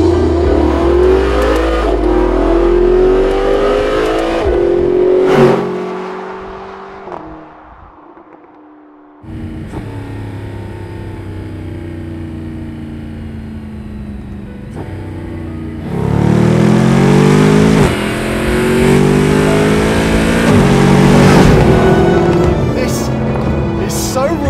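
A Mercedes-Benz SLS AMG's 6.2-litre V8 engine revs hard several times, a deep rumbling roar rising and falling, with a quiet lull in between and some talking.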